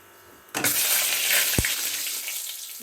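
Hot oil in a pan on low gas bursts into a loud sizzle as salt and turmeric go in, then crackles steadily, with a single soft knock partway through.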